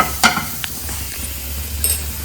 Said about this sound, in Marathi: आता आपण इथे कांदा भाजायला ठेवलेला आहे